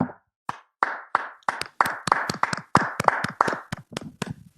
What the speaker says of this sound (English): We should all clap it up.